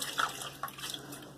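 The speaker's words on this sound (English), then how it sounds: "I'm going to take my puck and run that and rinse that off in cold water" Cold tap water runs over a Mitchell's Wool Fat shaving soap puck as it is rinsed off, a faint, steady hiss of splashing water lasting a moment.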